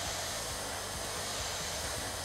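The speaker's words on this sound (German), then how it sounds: "mit nur 77 Dezibel ist der Staubsauger extrem leise." AEG PowerForce APF 6150 vacuum cleaner running steadily at close range, a continuous broadband whooshing motor and airflow hum with no speech and no change in level throughout.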